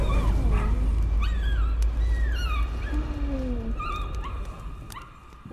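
Dog in the horror game Layers of Fear, heard in whimpers and yips with rising and falling whines, close and clear over a low steady drone, fading slightly toward the end.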